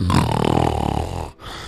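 A voice imitating a snore comes out as a long, rough, rattling growl with a pulsing throaty texture, loud and close, ending in a short breath.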